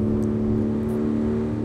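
A 400hp Ford Interceptor police car in a traffic-chase racing game revs hard in fifth gear, a steady loud engine drone held close throughout.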